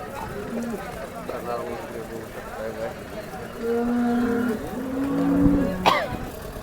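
A cow moos loudly a few times nearby at a cattle market in Modnimb, long drawn-out lows, while people talk around it.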